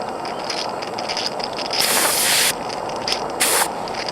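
Steam hisses from a warming Gauge 1 Victory live steam locomotive, a steady close hiss with two louder bursts partway through.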